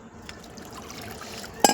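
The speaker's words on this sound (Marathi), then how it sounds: "तर गारच पाणी ओतते आता मी, काय गरम पाणी ओतत नाही." Cold water is poured outdoors at dusk on a farm, near a wood-fired clay stove. It trickles softly and steadily, then ends in a brief, louder splash.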